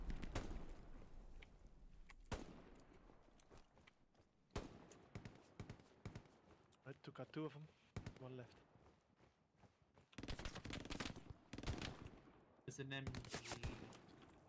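Gunfire in the World War II shooter game Hell Let Loose, with sharp bursts and scattered shots, some distant and some close, alternating with quiet stretches and footsteps.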